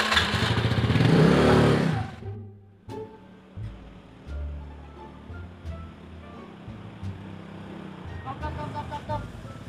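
A motorcycle engine in a Balinese comedy skit roars loudly for the first two seconds, then drops to a quieter low rumble with scattered knocks and faint voices.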